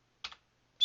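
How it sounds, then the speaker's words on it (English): A few quick keystrokes on a computer keyboard while a dpkg install command is entered on Ubuntu: a close pair of clicks, a pause, then another sharp tap, with no talking. "now we're typing in the command to actually install the Debian package"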